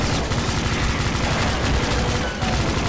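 A chaingun firing in Brutal Doom on Eviternity Map 31, Imperator: a loud, unbroken stream of rapid shots close up, with dense explosive clutter and only a momentary dip near the end.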